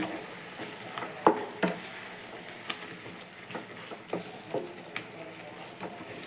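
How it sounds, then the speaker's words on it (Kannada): Chicken coated in ground green masala frying in a pan, a low continuous sizzle with irregular soft scrapes and knocks of a spoon stirring every second or so, fairly quiet and close. "ಇವಾಗ ಇದನ್ನು ಚೆನ್ನಾಗಿ ಹಸಿ ಸ್ಮೆಲ್ ಹೋಗೋವರೆಗೂ ಚೆನ್ನಾಗಿ ಫ್ರೈ ಮಾಡ್ಕೊಳ್ಳಿ"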